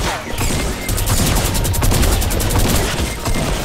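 Rapid bursts of gunfire from the Fortnite video game, dense and loud, with repeated shots and booms layered over a busy, continuous game mix.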